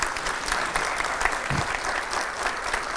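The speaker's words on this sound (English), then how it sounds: "big round of applause to our speaker" Audience applause for a speaker after a talk on code quality, steady clapping from a crowd at a moderate distance, sustained and even for the whole stretch with no voices over it.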